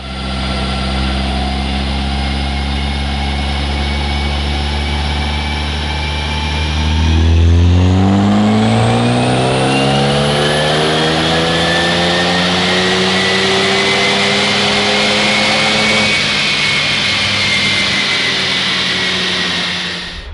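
Ford Focus ST fitted with a Cobb 3-inch catback exhaust, running loud and close: a steady droning idle, then a rev that rises in pitch around a third of the way in and holds a higher, sustained tone before settling, with no talk.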